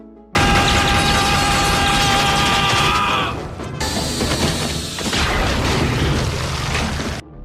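Weapon fire aimed at clones in a film scene forms a loud, dense barrage of blasts and crashing impacts that goes on almost without a break, with a short lull midway.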